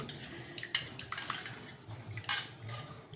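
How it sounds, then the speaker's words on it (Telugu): Close, wet swishing and splashing as wheat semolina is rinsed in water, with light scraping and clinks against a bowl. "గోధుమ రవ్వ కొంచెం కడుక్కోవాలండి."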